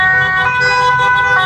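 An ambulance siren sounds at a street rally, a loud, close, steady wailing tone with strong harmonics and a faint traffic rumble under it, no talk.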